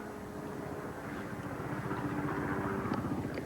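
Light two-seater trainer aircraft flying a lively display at the Farnborough airshow, a steady propeller drone with a low throbbing pulse and a faint engine whine holding fairly constant.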